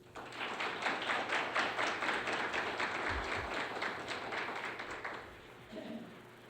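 Crowd applause at a Scout Day ceremony, steady dense clapping from many hands that holds for several seconds and then fades out, with a brief low thump partway through and a faint voice near the end.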